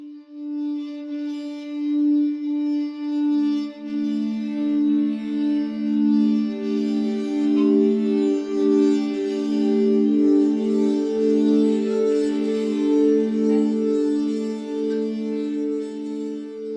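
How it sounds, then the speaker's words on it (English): Glass harmonica sample in the Omnisphere synthesizer, pure ethereal glassy tones ringing in slow overlapping sustained notes that build into a shimmering chord with a light gritty edge, heard alone. "we've got this sample loaded in called Glass Harmonica A"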